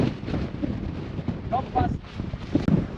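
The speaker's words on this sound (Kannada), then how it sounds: "ಹೆವಿ ಗಾಳಿ ಇದೆ ನಿಂತ್ಕೊಳಕ್ಕೆ ಆಗ್ತಾ ಇಲ್ಲ" Strong wind at Manikyadhara Falls, Chikkamagaluru, Karnataka, buffets the microphone with a steady roaring rumble while people talk.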